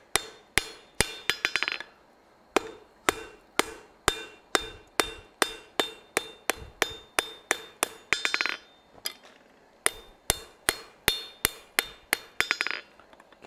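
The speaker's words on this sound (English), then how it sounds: "And then we're gonna hammer out the twists that are associated with it." Forged blacksmith tongs are hammered to take out their twists, a steady run of sharp metallic hammer blows ringing on the anvil, with a brief pause and a few short gaps between bursts.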